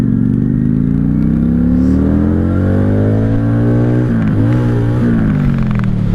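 A 1995 Honda Shadow VLX 600 VT600CD motorcycle pulling away in first gear, its loud close V-twin engine revving up in a rising pitch, dipping briefly with a clunk, then climbing again.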